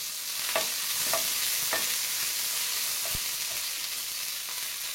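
Coriander stems and green chillies sizzle steadily in hot oil for radish chutney, a close continuous frying hiss with soft spoon-stirring scrapes scattered through it.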